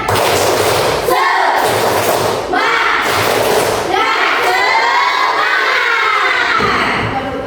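A classroom full of children erupts in loud rhythmic clapping and excited shouting, bursts of cheering rising and falling in waves.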